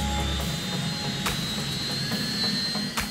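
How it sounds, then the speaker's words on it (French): A helicopter flies supply runs between the Marion Dufresne ship and remote sites in the French southern lands, giving a constant, fairly distant roar of rotor and turbine that stays even throughout. "l'hélicoptère offre à chaque escale un balai incessant entre le Marion Dufresne et les sites à ravitailler"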